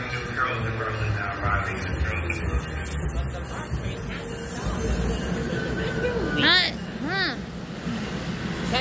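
A Metro subway train rumbles past at New Carrollton station with a steady, windy roar, and rising and falling squeals of wheels on rails sound near the end.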